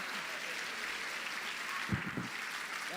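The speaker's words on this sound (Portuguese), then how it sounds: "Quem pode aplaudir e glorificar a Ele?" A congregation claps faintly during a Portuguese-language church sermon, a soft, continuous patter of applause heard from a distance, with a brief voice rising over it midway.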